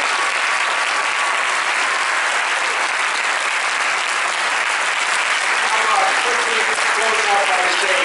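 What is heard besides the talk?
audience applause for a speaker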